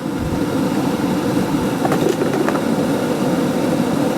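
An air blower feeds a coke forge used for amateur blacksmithing, giving a steady, close rushing drone with a low rumble that holds evenly throughout, with no talking.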